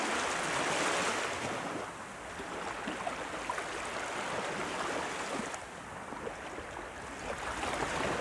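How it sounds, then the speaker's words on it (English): Distant ocean waves surge and recede in slow broad washes of surf, a soft continuous roar rising and falling with no voices. "the sounds of the ocean in the distance"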